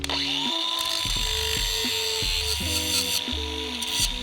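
A power tool trims a stud on a very aggressive engine manifold of a K-swapped AE86, its steady high whine running throughout with repeated short stop-start bursts as the bit bites and releases.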